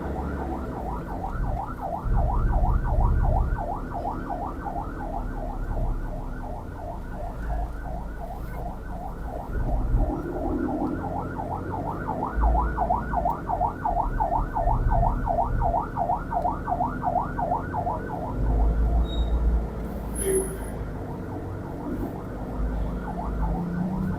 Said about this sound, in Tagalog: At pag ganitong may ambulance, lagi nating pagbibigyan.